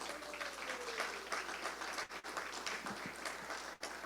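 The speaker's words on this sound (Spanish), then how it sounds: "Fuerte aplauso para María del Pilar, por favor." Audience applause at a public presentation of a study on children out of school, a steady, dense, fairly faint wash of many hands clapping together in a hall, sustained for several seconds.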